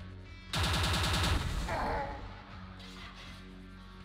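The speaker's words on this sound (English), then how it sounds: "Now we have to look out for turrets in the ceiling." Ceiling-mounted turrets open fire in Quake II: Ground Zero, a loud burst of rapid automatic shots lasting about a second, followed by a crashing impact and fading reverberant game ambience.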